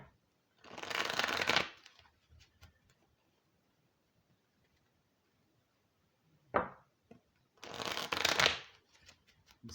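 A deck of tarot cards is riffle-shuffled close up in two crisp, rapid bursts about a second long each, separated by quiet handling and a few soft taps.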